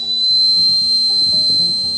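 A thin, steady high whistle from a handmade willow branch whistle sounds for about two seconds, held at one pitch over a low rumbling background.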